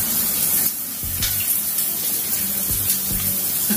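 Water from an outdoor shower in Jamaica runs steadily as a broad, close spray that hisses throughout, with a few soft knocks and thumps underneath.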